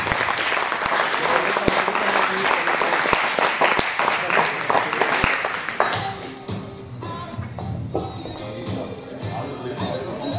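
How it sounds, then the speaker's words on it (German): Indoor audience applauding the U17 winner at a women's weightlifting championship, loud dense clapping for about six seconds that then fades into scattered claps and room noise. "Nochmal ein extra Applaus, Nova Kalina, Siegerin U17."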